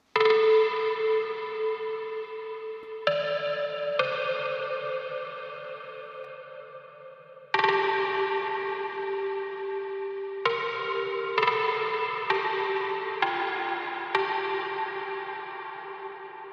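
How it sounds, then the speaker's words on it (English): A trance drop lead synth from an EDM production plays alone, a bright, buzzy sustained melody of long held notes that change pitch every few seconds, each swelling in loud and slowly fading, with echo and reverb trailing off. "I have this drop melody that is starting, and it sounds like this"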